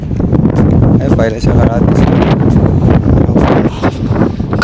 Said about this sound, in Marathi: काय रे वारा सुटला आहे